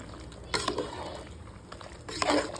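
A spoon scrapes and stirs ground masala for chicken curry in a pan, with two louder clattering strokes over a soft background sizzle and no speech.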